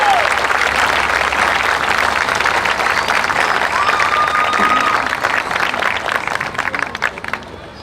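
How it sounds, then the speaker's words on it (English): An audience at the 2024 West Lampeter Community Fair applauds the fair queen, alternate and contestants, loud continuous clapping that thins to scattered claps and dies away at the end. "One more round of applause for our 2024 West Lampeter Community Fair Queen, alternate, and all contestants"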